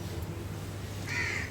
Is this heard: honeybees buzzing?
no